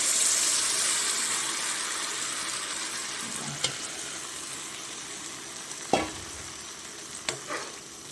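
Semolina mixture sizzles in hot ghee in a pan as it is stirred for camel puri halwa, a steady fry hiss with a few sharp scraping spoon knocks, no talk.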